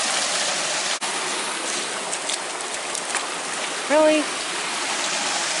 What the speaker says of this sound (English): we have made it to the waterfall